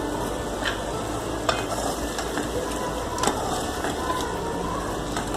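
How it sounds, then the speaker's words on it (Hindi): A spoon stirs egg masala gravy with softening tomatoes in a pan over low flame, giving a continuous close sizzle with occasional scraping clicks against the metal. "थोड़ा सा इसमें चम्मच चलाएंगे ताकि हमारे टमाटर अच्छे से सॉफ्ट हो जाएं"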